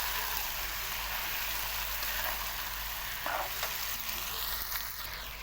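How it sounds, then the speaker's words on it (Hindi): Chicken and onions fry together in a pan with a steady, dense sizzle that holds evenly throughout, with a couple of faint stirring touches partway through. "दोनों बहुत अच्छे तरीके से हम इसको भूनेंगे"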